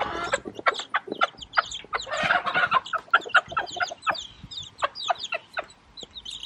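A hen squawks and clucks in loud, rapid bursts much like a rooster's calls, close by with a busy, agitated rhythm and no talking.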